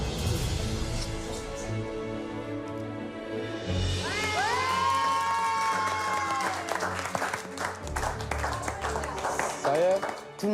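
A group of contestants on a friends trip applauds and cheers, clapping mixed with excited shouts and overlapping voices, with a tonal sweep partway through.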